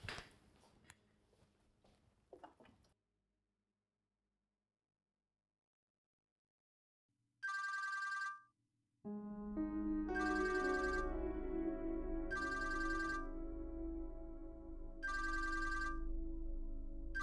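A telephone rings in a Pakistani TV drama scene, its electronic ringtone sounding in several short repeated bursts over swelling background music after a brief silence.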